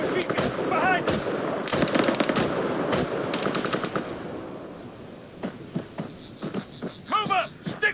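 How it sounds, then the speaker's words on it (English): Rapid machine gun bursts ring out in the Arma 3 combat game, loud repeated automatic fire with sharp single shots mixed in, continuing through the clip while soldiers shout in the background. "engage the machine gun, behind us!"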